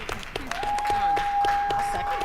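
Audience clapping at a school board of education meeting after a motion passes, a sustained spatter of applause under a mix of voices, with a steady high electronic tone running through most of it.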